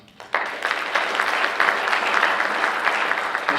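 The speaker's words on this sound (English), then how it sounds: "Feel free to applaud them now and then again at the end of the forum." An audience at a Nebraska legislative primary candidate forum bursts into applause after a brief quiet moment, then keeps up dense, steady clapping until the end.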